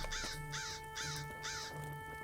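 Crows caw in The Lord of the Rings Online, four harsh rasping calls in a steady rhythm, then fainter trailing caws over a quiet ambient game backdrop.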